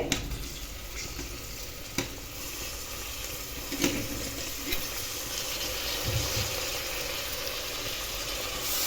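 Tomato pieces hitting a hot pan sizzle steadily beside cashews in a tomato rice, with a soft, continuous frying hiss and occasional stirring clicks, no talking.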